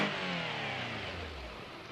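A BMW E36 engine revs hard with a raspy, aggressive exhaust note, rising briefly and then falling away, close and alone.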